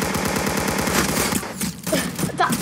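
Rapid automatic gunfire in the Roblox shooter Arsenal rattles in fast, loud, continuous bursts, then breaks into scattered shots near the end.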